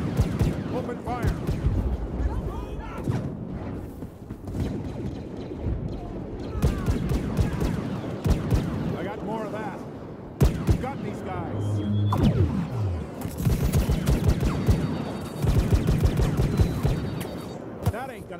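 Blaster gunfire from Star Wars Battlefront in a Heroes vs Villains match, dense rapid shots and bursts running throughout at steady loudness, mixed with game effects and voices talking over the action.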